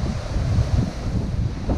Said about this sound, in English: So these are the waterfalls that are being blown up by 60 to 80 knot winds.